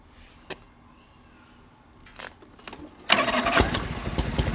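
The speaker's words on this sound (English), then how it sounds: "Like to start, fires right up every time. Has a really nice exhaust note to it. Nice big growl exhaust note." A 1980 Harley-Davidson FLT motorcycle engine cranks after a few faint clicks and scattered knocks, then fires up at about three seconds into a loud, close, rumbling idle that holds to the end.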